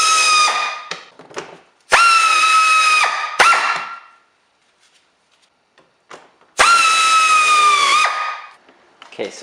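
A power driver spins out T10 screws on a C8 Corvette front splitter, with two long, loud whirring bursts separated by short clicks and pauses, each run rising in pitch before it stops.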